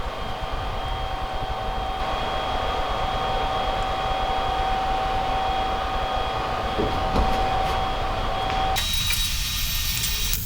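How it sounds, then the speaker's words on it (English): TIG welding on a steel roll cage tube for a classic Mini race car, a steady, close buzzing hiss with thin tonal whines that runs unbroken for nearly nine seconds before the tone shifts near the end. "This I just put in a real-time weld, so you can see how long one of these welds takes"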